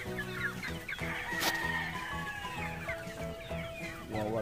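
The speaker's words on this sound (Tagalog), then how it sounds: "Mga manok pa dito" Chickens on a farm cluck and call close by in a lively, overlapping stream of bursts, with one louder squawk in the middle.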